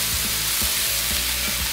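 Potatoes frying in oil on a griddle give a steady, loud, close sizzle with faint scraping strokes through it and no talking.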